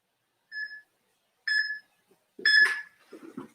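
A workout timer beeps in short, clear electronic tones, three spaced pulses, with brief talk following at the end.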